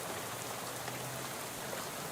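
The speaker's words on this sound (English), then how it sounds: "dozing off to the sound of rain spattering on the window beside you" Rain spatters on a bus window in Shadows Over Loathing, a dense, even hiss of drops that stays steady and close throughout, with a faint low hum underneath and no voices.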